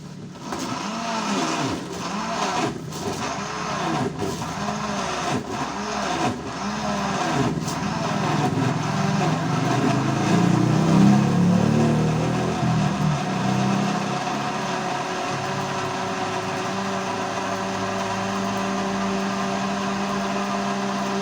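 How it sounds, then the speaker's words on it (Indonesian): Electric blender whirring as it blends bandotan leaves with half a liter of water, a loud, steady motor roar with churning that builds through the middle and holds to the end, with no talk over it. "Lalu ini akan kita blender."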